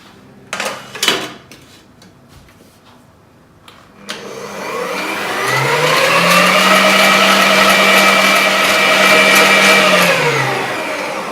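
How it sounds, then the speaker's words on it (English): An electric mixer starts up after a few clattering knocks and runs steadily on high speed, a loud sustained whir with a pitch that rises, holds, then begins to drop, while mixing pumpkin bread batter. "Now you are going to turn this mixer on to high speed."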